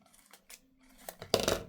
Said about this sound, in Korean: 이렇게 벌리면은 가운데를 가위로 잘라서